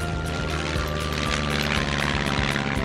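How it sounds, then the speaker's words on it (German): A cartoon seaplane's propeller engine drones steadily at full power as the plane accelerates and takes off, a dense, continuous rumble with a faint rhythmic beat, loud and close, with no talking over it. "Das Wasserflugzeug beschleunigt und hebt ab."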